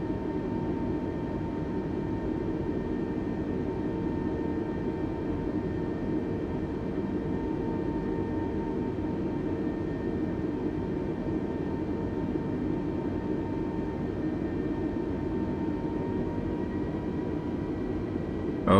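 Steady broad engine and turbine hum from an airliner rolling slowly onto the runway in Microsoft Flight Simulator 2020, a constant drone with faint tonal whines above it, unchanging throughout and with no talk.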